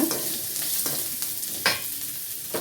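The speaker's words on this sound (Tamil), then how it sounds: "இப்போ பீர்க்கங்காய் தோல் போட்டுக்கலாங்க. இது நல்லா வதக்கலாங்க." Ridge gourd peel sautéing and being stirred in a hot pan: a steady sizzle with scraping stir strokes throughout, close and moderately loud, no voices.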